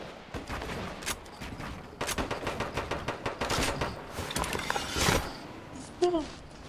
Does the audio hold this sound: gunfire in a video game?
yes